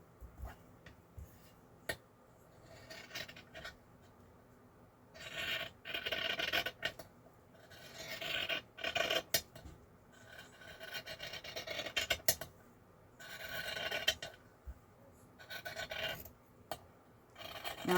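Scissors cutting a strip off a piece of fabric, heard as close, rasping shearing strokes in irregular bursts between quiet pauses, with occasional light taps and no speech.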